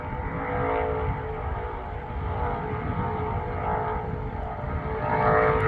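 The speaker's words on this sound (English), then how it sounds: "And you can hear the car coming back around." A race car circles Talladega Superspeedway in Alabama, its engine a steady distant drone that swells slightly near the end as it comes back around, with no talking.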